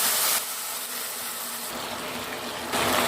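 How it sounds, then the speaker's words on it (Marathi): Water poured from a vessel into a pan of moong dal halwa mixture with sugar, a steady splashing gush that runs without a break for about three seconds, close by, with no talk. "पाणी देखील लगेच घालते मी"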